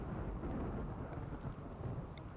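Heavy rain pours steadily under a deep rumble of thunder in the RimWorld video game, a dense continuous wash at moderate level with no talk.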